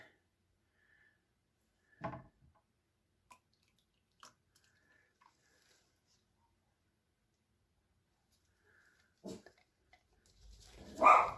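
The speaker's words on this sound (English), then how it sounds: "And the dogs are going to start barking, of course." Dogs barking at home in a kitchen during cooking, a few scattered short barks at a distance and then a louder burst at the end, with quiet gaps between them.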